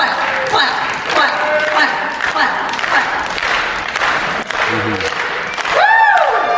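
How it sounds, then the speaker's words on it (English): A theater audience at a Palace Theatre screening of The Texas Chainsaw Massacre 2 claps together in a steady rhythm, loud and close, with cheering and voices mixed in and a whoop near the end. "Start clapping. Give me some rhythm. We clap."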